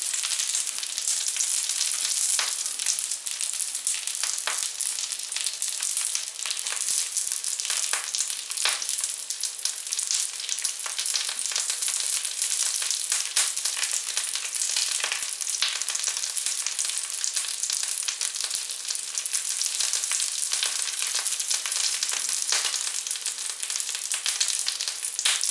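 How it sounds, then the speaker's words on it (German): Breaded parasol mushroom schnitzels fry in butter in a pan, producing a continuous bright crackling sizzle at an even level, close and uninterrupted. "Die müssen jetzt noch gut durchbraten"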